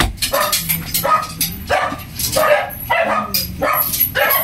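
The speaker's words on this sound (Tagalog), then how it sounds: "Ingay ng mga aso." Several dogs bark repeatedly and close by in rapid bursts, some yelping and whimpering between the barks.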